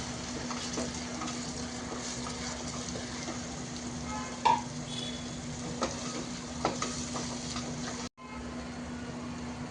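Tomato gravy hitting a hot pan of sizzling ginger-garlic paste, giving a steady close frying hiss with a few faint spoon clicks, no talking.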